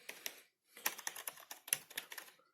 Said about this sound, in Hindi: साउंड सुन के तो मैकेनिकल कीबोर्ड जैसा लग रहा है, बट ये मैकेनिकल कीबोर्ड नहीं है, मेम्ब्रेन से